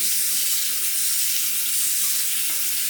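Tap water runs steadily to rinse a razor loaded with slick shaving lather, a continuous close hiss of water flowing into a sink with no voices.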